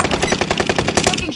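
PS4 video game gunfire: a short, loud, rapid burst of roughly a dozen evenly spaced automatic shots.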